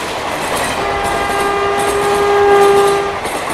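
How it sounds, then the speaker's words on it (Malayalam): Inside the general compartment of the Guwahati–Ernakulam Express, a steady rumble of the moving train fills the carriage while a long horn sounds in the distance, and no one speaks. "ഗുവാഹത്തി എറണാകുളം എക്സ്പ്രസിന്റെ ജനറൽ കമ്പാർട്ട്മെന്റിനുള്ളിലാണ് നമ്മളിപ്പോൾ"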